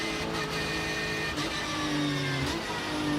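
An onboard race car engine runs behind the safety car, a steady loud drone with gentle rises and falls in pitch and no full-throttle bursts.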